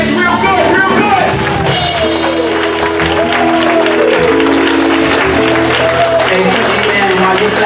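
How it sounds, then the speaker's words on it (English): Church congregation clapping hands throughout worship, a loud continuous wash of claps mixed with music, singing and crowd voices. "clap your hands real good, real good"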